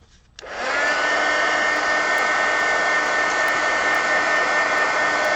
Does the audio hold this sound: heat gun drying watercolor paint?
yes